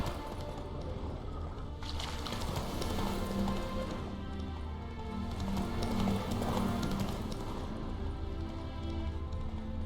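A horse in the video game The Witcher 3 stamping and clip-clopping its hooves with snorts, a steady run of hoof beats at moderate distance, fairly quiet, with no talk.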